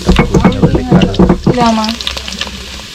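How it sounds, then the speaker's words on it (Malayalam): Mustard seeds spluttering and popping in hot oil for a home-style chicken curry, a burst of crackles and sizzle with stirring, loud at first and fading toward the end, with a brief voice partway through. "കടുക് പൊട്ടിക്കൊണ്ടിരിക്കുകയാണ് കടുക് പൊട്ടിയിട്ടുണ്ട്"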